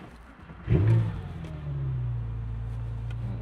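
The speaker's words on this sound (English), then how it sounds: "I do want to roll down the windows to hear how it sounds, starting with the exhaust." A Porsche 996 flat-six sports car making 412 HP fires up with a quick rev, then settles into a low, steady exhaust rumble at idle, fairly close by.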